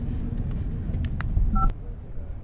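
Nokia 3310 keypad dialing tones in a video game: a few short beeping key tones over a low rumbling game background, moderately loud and close, with no talking.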